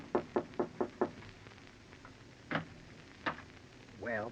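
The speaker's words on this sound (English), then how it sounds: "you go upstairs and knock on the door." Five quick knocks on a door in a 1940s radio mystery drama, close and sharp in a steady rhythm, followed by a few softer thumps and a short murmured voice at the end.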